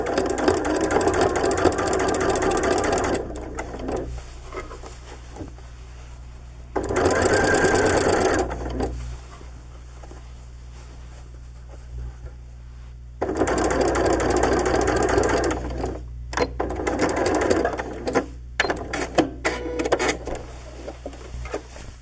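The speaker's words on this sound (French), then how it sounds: "puis je vais venir piquer ici, en ligne droite." A sewing machine sews a straight line across a hoodie, in several loud, close bursts of rapid stitching separated by quieter gaps of motor hum and handling noise.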